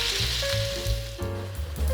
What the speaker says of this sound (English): Cook your meat till all the pink is gone, turning them over to make sure it's cooked on both sides.